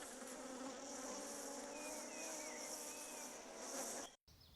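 Bees at a beehive buzz in a dense, steady, close drone with no voices.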